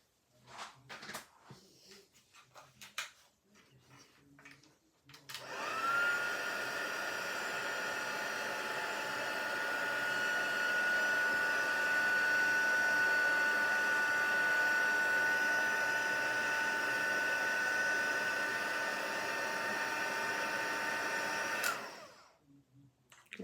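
A heat tool reheats adhesive for gilding flakes on autumn cards. After a few soft handling sounds it switches on with a steady, hair-dryer-like blowing hiss that holds for about sixteen seconds and then cuts off, followed by more small handling noises.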